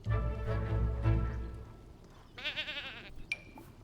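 Sheep or goat bleating in The Sims 4, a low wavering bleat followed by a higher quavering one, close and clear, with a short chime near the end and no talk.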